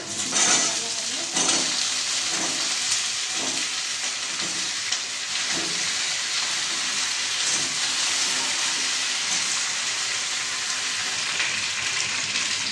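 Onion and taro frying in oil tempered with cumin and bay leaves, a loud continuous sizzle with repeated scraping stirs in the first half, close and steady.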